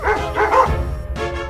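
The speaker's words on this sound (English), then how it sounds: "Suddenly, some dogs barked in the distance, and the fox was very startled." Dogs bark in a few quick yapping bursts, a short cluster of barks, a pause, then another bark, fairly loud and with no talking over them.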